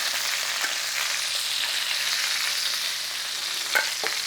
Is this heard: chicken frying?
yes